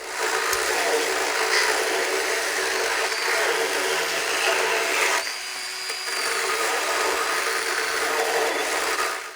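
A Milwaukee M12 FHS cordless pruning saw cuts through wood, its chain whining steadily and close by with one brief dip midway before resuming.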